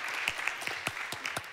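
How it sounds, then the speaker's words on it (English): Audience applause greets an indigenous rights activist from Ecuador as she is called to the stage at the DLD 22 conference. The clapping is fairly quiet and steady, with scattered sharper claps standing out over a dense spread of hands. "and a big round of applause."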